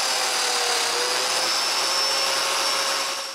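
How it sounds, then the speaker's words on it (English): A domino joiner cutting mortises in wood with a jig, a loud steady high-pitched motor whine held for a few seconds before beginning to fade, with no speech. "With the jig I made a long time ago, it's super easy to drill those mortises."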